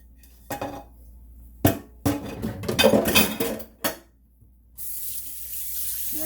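Dishes and cutlery clatter in a few sharp knocks, then water from a tap pours steadily into a pan, a bright continuous rush to the end, in a kitchen.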